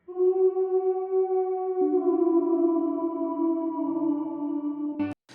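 Sustained, softly ringing tones washed in Space Designer reverb on an ambient indie track, notes shifting slowly and tailing off into a long decay before a brief clatter at the end.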